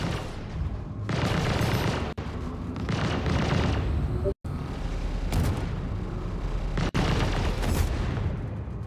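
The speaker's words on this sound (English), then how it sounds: "So a little bit of shooting and dodging of the turret." Gunfire trades with turrets in the space game Star Citizen, dense rapid bursts of shots and booms in several loud sustained volleys separated by short abrupt gaps.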